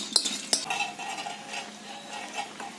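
Chillies fry briefly in a pan for a chalta pickle, with a soft sizzle under a few sharp clinks of a metal spoon against the pan.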